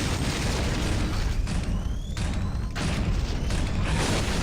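Rocket launcher blasts in the game Doom 3 BFG The Lost Mission form a continuous, loud barrage of booming explosions and rumbling impacts, with brief dips between bursts.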